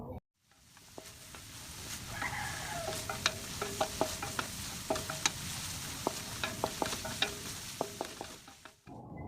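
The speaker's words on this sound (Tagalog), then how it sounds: "iginisa ko na sa sarili niyang mantika ang ating giniling na baka" Ground beef sautéing in its own rendered fat, a close crackling sizzle punctuated by repeated sharp spatula taps and scrapes against the pan, with no talking.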